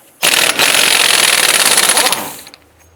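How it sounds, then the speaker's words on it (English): An impact wrench rattles off the CV axle nut on a 2005-10 Jeep Grand Cherokee during a wheel bearing and hub replacement, one loud, close, continuous buzzing hammer burst of about two seconds. "Go ahead and remove the CV axle nut."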